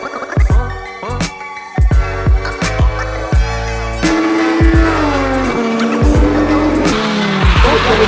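A Legend Car race car at Magny-Cours brakes hard into a corner, tyres squealing and skidding loudly and close by, with the engine note rising and dropping through a series of sharp gear changes.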